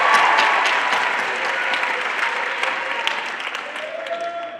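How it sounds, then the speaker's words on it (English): A crowd applauds the lighting and sound crew at a live event. The clapping is loud and dense from the start and eases slightly toward the end, with faint voices mixed into it. "can we give them a big round of applause"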